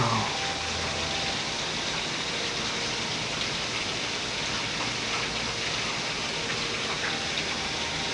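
Heavy rain pours in Texas, a dense, steady roar of downpour hitting surfaces nearby, constant and loud throughout with no voices.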